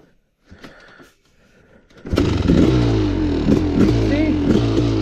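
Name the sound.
Kawasaki KX500 motorcycle engine revving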